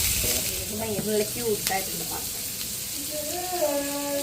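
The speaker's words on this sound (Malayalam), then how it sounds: "സബോള പച്ചമുളകൊക്കെ ഇട്ടിട്ട് ആദ്യം വഴറ്റണം" Onions and green chillies sautéing with salt, a light sizzle with soft stirring scrapes in a pan, heard under ongoing talk.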